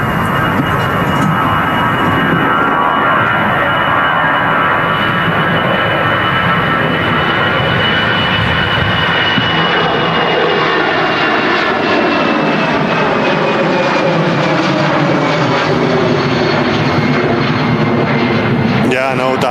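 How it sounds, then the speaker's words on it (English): An EasyJet Airbus A319 rolls down the runway for takeoff at Manchester Airport, a loud, building jet engine roar that rises in pitch and sweeps past, with voices talking over it. "the EasyJet is now rolling on the runway for Pisa, A319"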